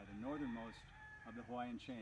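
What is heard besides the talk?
roosters crowing in the background, Kalaheo, Kauai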